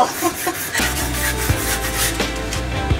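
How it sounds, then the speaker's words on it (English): Wooden tiny-home countertop being hand-sanded with 120 grit sandpaper, a loud close rasping rub in steady back-and-forth strokes with no voices. "When you go to sand it with the 120 grit paper, you'll be able to tell that you've sanded the entire thing."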